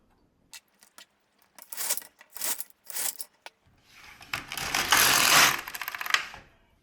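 A domestic knitting machine knitting a scalloped border, with a few sharp clacks and short sliding passes of the carriage, then a longer, louder rasping run close by, no talking.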